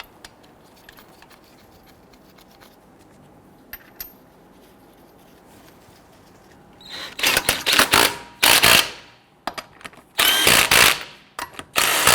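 A ratchet works on the lug nuts of a 2006-2012 Toyota RAV4 wheel after a quiet stretch of faint background noise. Several loud, close bursts of rapid clicking follow, separated by short pauses.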